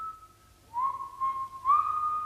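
A man whistles a short, sustained tune, steady notes sliding between pitches, close and clear with nothing else in the background.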